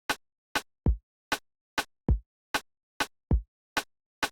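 Reggaeton drum loop at about 98 BPM with the main kick removed, mostly crisp snare or hat hits in a steady pulse and only an occasional low thump, sparse, dry and close, with no voices.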